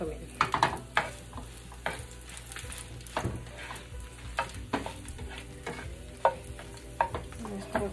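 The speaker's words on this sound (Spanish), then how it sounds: "vamos a mover para que no se nos vayan a quemar. Los vamos a ir moviendo." Shrimp frying over low heat in a pan with chile morita while being stirred, giving repeated scraping clicks and soft sizzle throughout, with a brief spoken word in between.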